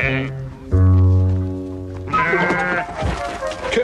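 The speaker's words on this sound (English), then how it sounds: "She's only a sheep." A sheep bleats twice, loud and near, the second call wavering and longer, with no talking around it.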